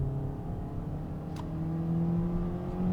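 A 2022 Toyota Corolla launched at full throttle with traction control off, a steady moderate engine drone and whine rising slowly in pitch and loudness, heard from inside the car with no voices.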